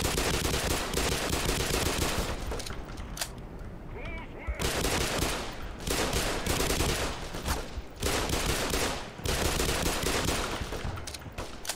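Machine gun fire in the Black Mesa video game, loud rapid bursts of automatic shots separated by short pauses, close and dominant, with a faint voice in a quieter gap.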